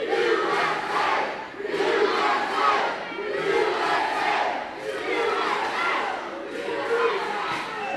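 A large crowd chants loudly in a steady repeating rhythm, voices rising and falling together in waves, with no single speaker standing out.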